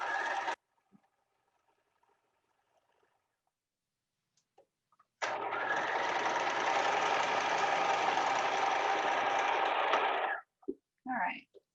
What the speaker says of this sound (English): we're going to start out by doing just a regular standard seam.